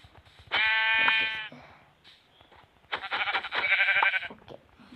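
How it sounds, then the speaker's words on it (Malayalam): Two sheep bleats from the Minecraft video game, each a long wavering cry, sound close and loud with a short gap between them and faint clicks around them. "അവിടെ വേറെ 2 ആട്."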